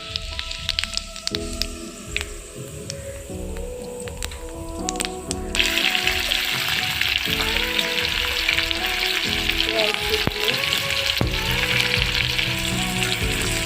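Whole cumin seeds drop into hot oil in a kadai used for frying potatoes, with a gentle sizzle that suddenly swells into a loud, dense crackling hiss partway through, then holds steady with faint utensil taps.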